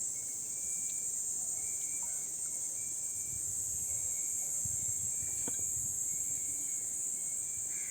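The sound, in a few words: grasshopper chirping near fishing spot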